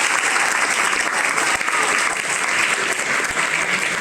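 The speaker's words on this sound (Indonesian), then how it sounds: "Tepuk tangan untuk kita semua." Loud, continuous applause from a gathered audience at a Nuzulul Quran celebration at an Islamic boarding school, a dense, even roar of clapping with no pause.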